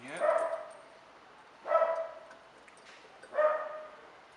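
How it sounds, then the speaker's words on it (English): A puppy gives three loud barks spaced about a second and a half apart, each a sharp yelp with a short trailing tail, quiet in between. "the puppy dog decided he's going to start barking right in the middle of the video"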